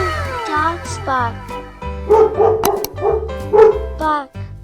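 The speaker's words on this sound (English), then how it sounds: "Dogs bark." A short run of loud, close dog barks follows a stretch of melodic backing music in a children's animal-sounds lesson, with the music continuing underneath.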